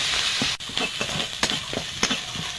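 A masala of onion, garlic and ginger paste frying in oil for a prawn malai curry, giving a continuous loud sizzle with scraping stirs at regular intervals.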